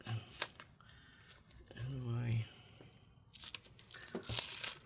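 Tape-covered packaging around a replacement screen for a Lenovo Legion Y740 laptop is torn and crinkled open nearby, with short rips and rustling bursts at the start and end and a brief murmur in between.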